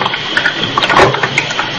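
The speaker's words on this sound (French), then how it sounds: "ouvrir son robinet pour se faire un café" Kitchen tap opened to fill water for coffee, a steady broadband rush of running water with small fluctuations, close and fairly loud throughout, no voices.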